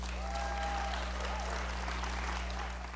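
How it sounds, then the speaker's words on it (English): An audience claps throughout, a steady dense wash of applause with a brief whistle near the start, over a low constant hum. "Make some noise for yourselves."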